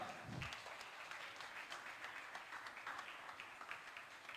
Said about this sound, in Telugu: గట్టిగా చప్పట్లు కొడదాం.